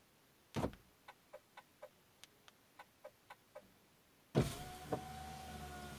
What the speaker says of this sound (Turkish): Açma butonuyla camları açıyorum.